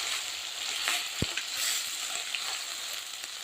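Onion and tomato paste fries in a pan for a hotel-style paneer gravy curry, giving a steady, fairly quiet hiss with a few soft stirring knocks and one sharp tap midway.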